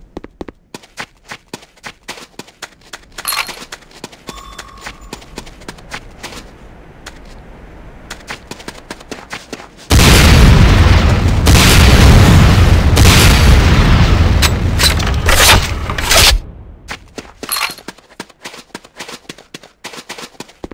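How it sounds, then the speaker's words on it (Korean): The R12 Locust automatic 66mm rocket launcher in Command & Conquer: Renegade fires a loud, sustained roaring barrage of booming rocket shots for several seconds, framed before and after by sparse, sharp clicking impacts. "다음은 스작 홀크제이 66mm 타입 R12 로커스트 자동 로켓 발사기입니다."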